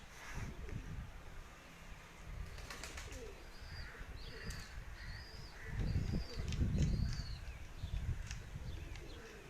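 Pigeons on a rooftop with birds flying overhead, soft repeated cooing and calls scattered across the clip alongside occasional flapping wings and low rumbling background noise.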